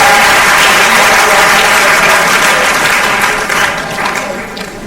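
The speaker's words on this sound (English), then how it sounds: "That's the clap for him again." A large audience at a Safer Internet Day 2016 event claps in a loud, sustained wash of applause that eases off slightly toward the end.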